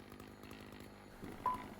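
A chainsaw mill runs at full throttle, cutting lumber vertically through a log with a steady, buzzing engine drone that rises slightly near the end of the short stretch.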